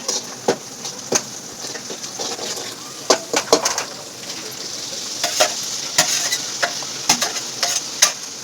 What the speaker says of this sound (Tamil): தக்காளி கொட்டியாச்சு. நல்லா வதங்குறதே வேலை.